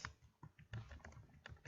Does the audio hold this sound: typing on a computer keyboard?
yes